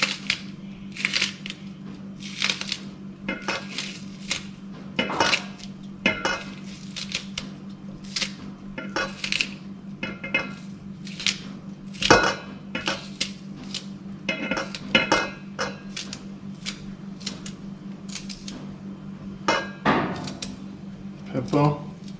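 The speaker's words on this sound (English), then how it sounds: "So now I'll get the frying pan over." A frying pan and utensils clatter and clink in a Jamaican yard-style kitchen, with irregular sharp knocks and taps over a steady low hum throughout.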